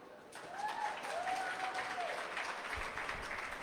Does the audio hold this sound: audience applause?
yes